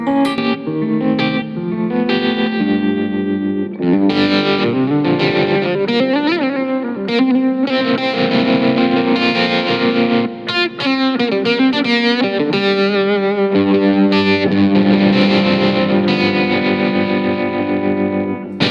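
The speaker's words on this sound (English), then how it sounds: "the second setting I've just programmed in is like an AC30 kind of sound" Electric guitar through a Yamaha THR amp set to a chimey, lightly overdriven AC30-style tone, strummed chords and picked single-note runs ringing out steadily, close and loud with no talking.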